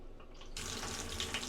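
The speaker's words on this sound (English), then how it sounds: "Taps work" Water gushes from a hotel room tap, starting suddenly after a quiet moment and running steadily and close, a bright broadband rush.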